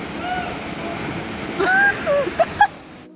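Lower Waihee Falls on Maui, a waterfall spilling into a freshwater roadside swimming hole, gives a steady broadband rush of falling water, with a few brief higher calls or voices rising over it before the sound cuts off.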